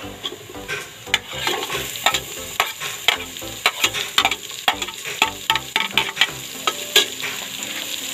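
White and red onions sauté in a pan for a home-cooked beef tripe goto porridge, a steady close sizzle broken by frequent sharp clicks and scrapes of a spoon stirring against the metal.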